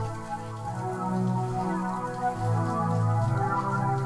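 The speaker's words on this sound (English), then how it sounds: "And then it starts to rain" A rain sound effect plays beneath low droning music in a spooky storytelling show, a soft patter of falling drops rather than a downpour, with no talk.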